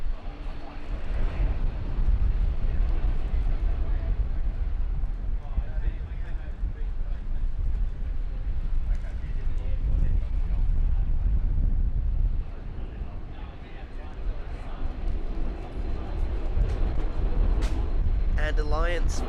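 Gusty wind blasts across an open microphone at Brisbane Airport, a steady loud roar through most of the stretch with a brief lull, distant aircraft noise underneath and voices faintly present.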